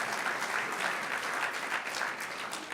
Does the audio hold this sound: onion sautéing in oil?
no